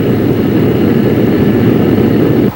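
A Banshee jet plane's engine roars loud and steady with a dense broadband rush, sustained without break before cutting off abruptly at the end.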